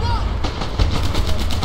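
A BAR rifle fires in rapid bursts in the WWII shooter Medal of Honor Airborne, loud, close, repeating cracks with game battle noise underneath.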